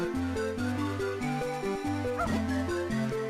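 Short yipping dog barks in The Legend of Zelda: The Minish Cap, repeating in quick bouncy bursts over the game's steady chiptune-style music.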